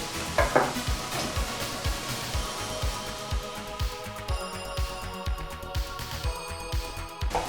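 Steady sizzling of onion sautéing in a pan, with a spatula stirring and scraping in a regular rhythm, close by and with no talking.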